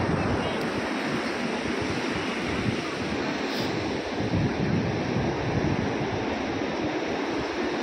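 Sea waves rolling onto Puri beach make a continuous loud wash of surf, close up and mixed with heavy wind buffeting the microphone, with no break in the roar.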